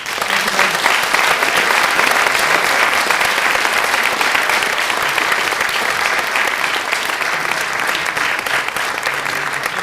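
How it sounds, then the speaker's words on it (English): Audience at a public lecture on violence applauding, a full, steady wash of clapping from a large crowd that holds at an even level throughout, with no talking over it. "let's give another round of applause for Fred."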